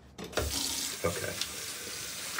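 Tap water runs steadily into a sink while a synthetic bristle shaving brush is rinsed under it, a close, continuous splashing flow with a few brief shifts as the brush moves through the stream.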